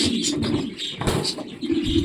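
Pigeons coo softly in a farm loft, low repeated murmuring calls close by, continuous through a brief stretch with no talking.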